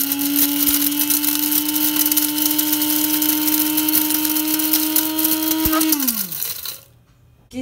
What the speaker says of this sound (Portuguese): eu vou usar um moedor de café que eu uso só para moer especiarias